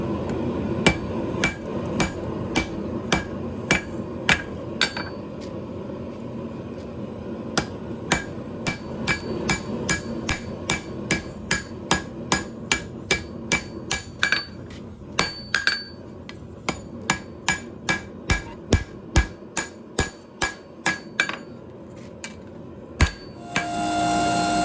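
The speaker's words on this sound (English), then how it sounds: "using the hand hammer to just straighten out the other corner centered with the rest of the billet" Steady hand hammer blows on a hot steel billet while forging a San Mai blade, ringing metallic strikes repeating in a fast even rhythm for over twenty seconds, close and loud with brief pauses.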